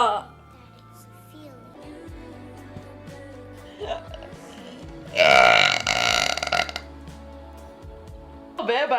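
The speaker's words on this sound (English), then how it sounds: "Was that a live reaction to my burp right there?" A loud, long, rumbling burp erupts midway through, close to the mic, amid people talking and faint clinks of dishes and cutlery.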